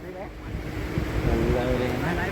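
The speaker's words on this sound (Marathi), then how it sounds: "या ज्या लाटा इकडे येत आहेत परत तिकडे जात आहेत" Sea waves wash up onto the beach at Alibag and draw back, a steady close rush of surf with wind buffeting the microphone throughout.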